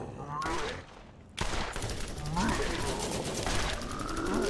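Deployed turret in the Borderlands shooter firing bursts of rapid automatic gunfire, with a brief drop before the shooting resumes loud and continuous, mixed with other game sounds and voices.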